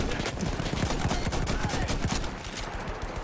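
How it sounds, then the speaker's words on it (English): Dense gunfire in the Battlefield 1 video game, rapid overlapping shots and bursts crackling nonstop, loud and close, with faint talk underneath. "charging the enemy positions while gunfire streaks by me in all directions"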